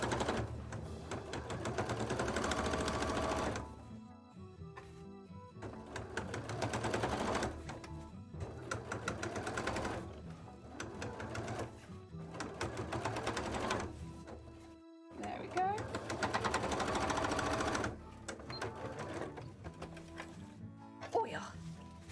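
A sewing machine top-stitches a cosplay headpiece, running in several long whirring bursts separated by short pauses, close and fairly loud.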